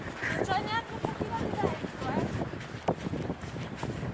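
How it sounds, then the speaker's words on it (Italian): Strong wind of about 120 km/h roars across a snowy mountain trail, a steady rushing blast buffeting the microphone throughout, with a person talking over it. "solo a 120 km orari il vento"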